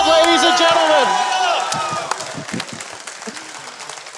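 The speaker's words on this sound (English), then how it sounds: "The crowd on their feet." A large esports arena audience roars, cheers and applauds at a StarCraft 2 match, a loud dense wall of crowd noise that slowly thins while a commentator talks over it.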